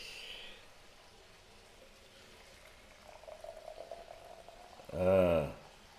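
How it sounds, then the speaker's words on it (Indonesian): Water comes to a boil over shaved sappan wood, starting as a low simmering hiss that builds into steady bubbling and ends in a short, loud burst of rolling boil. "saya taruh kayunya di sini, diserut, dan air mendidih."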